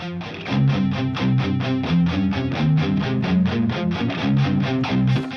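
Two distorted metal guitar parts play together in a tight, repeating chugging rhythm of evenly spaced muted strums, loud and steady throughout.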